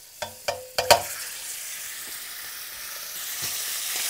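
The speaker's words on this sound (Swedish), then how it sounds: "Det är meningen att det här köttet ska bryna ordentligt liksom." Meat browning in a very hot pan with a knob of butter for goulash soup: a few sharp hisses and crackles as pieces land, then a steady soft sizzle that carries on alone.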